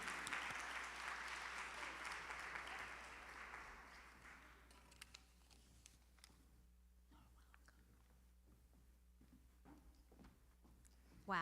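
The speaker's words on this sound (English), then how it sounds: "let's greet her with a round of applause." Applause from an audience at a school honor society ceremony, loud at first and then thinning out into scattered claps and murmurs before fading.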